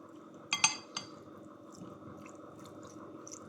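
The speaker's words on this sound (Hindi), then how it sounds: "अब इन सारी चीज़ों को अच्छी तरह से मिक्स कर लेंगे" Chicken pizza bite filling is mixed in a bowl with a spoon: a few clinks against the bowl early on, then soft, quiet squelching stirring.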